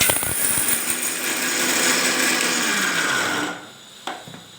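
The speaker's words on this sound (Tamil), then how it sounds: "இதை வந்து நம்ம இப்போ மிக்சி ஜார்ல போட்டுக்கலாம் போட்டு பொடி தான் பண்ணணும்" Mixer grinder jar whirring loudly as it grinds garlic cloves to powder, a dense steady roar for about three seconds before winding down, followed by a faint clunk of the jar; close, no talking.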